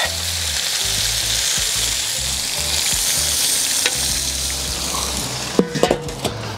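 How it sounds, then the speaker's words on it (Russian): Potatoes fry and sizzle steadily in a saj pan over a charcoal grill while a spatula stirs them, with a few sharp metal scrapes and clinks near the end. "Ну, лопаточку взял так и пошел мешать."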